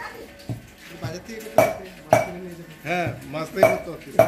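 Pots, pans and utensils clatter and clink at a family wedding's outdoor cooking area, sharp metallic knocks and rings arriving every half second or so, close and fairly loud, with people talking in the background.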